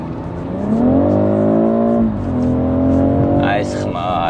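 A BMW X3 engine revs and holds steady through its exhaust system, a loud, harmonic drone rising and settling, with voices heard toward the end.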